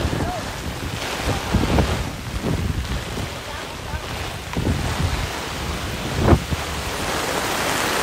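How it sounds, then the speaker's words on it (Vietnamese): Strong gusting wind buffets the microphone during a heavy rainstorm on a summer afternoon, roaring steadily with a louder blast near the end, with rain noise mixed in and faint voices in the background. "Trời ơi, gió."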